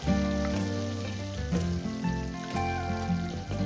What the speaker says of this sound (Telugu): ఇప్పుడు ఇందులోకి ఒక టీ స్పూను జీలకర్ర వేసుకుని ఒక నాలుగు పచ్చిమిర్చిని మజ్జిగ చీల్చుకుని వేసుకున్నాను